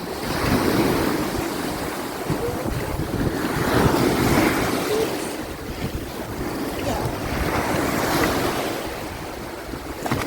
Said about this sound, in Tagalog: Ang lakas ng alon ngayon ah.